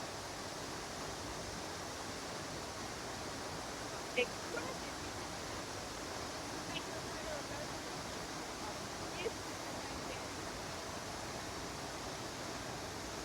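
Curtis Falls on Mount Tamborine pours as a steady, broad rush of water, a constant wash of noise heard from a distance with a few faint bird chirps above it.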